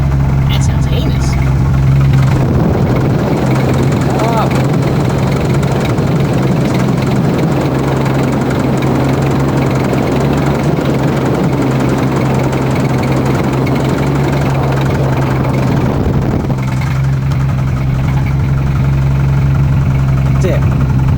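A broken, modified car's engine runs rough and loud at idle, a steady low drone with knocking texture throughout, while people talk nearby over it.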